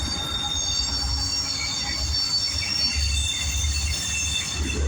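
A train rolls steadily past on a railroad line near abandoned spurs, a continuous loud rumble with high wheel squeal and ringing overtones, no voices.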